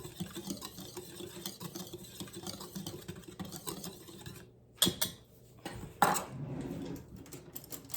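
Whisk or utensil clinking and scraping steadily in a bowl of whole wheat cracker dough ingredients, with a couple of louder knocks near the end; no voices.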